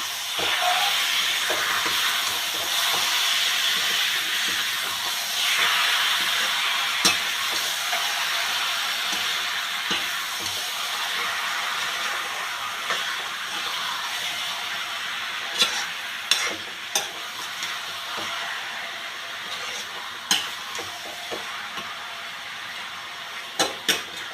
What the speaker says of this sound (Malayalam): വഴറ്റാം